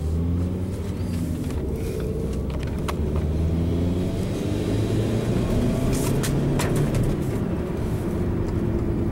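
Truck engine with aftermarket exhaust pipes idling, a loud, steady low rumble with a throbbing exhaust drone and slight wavering in pitch, continuous throughout with no voices.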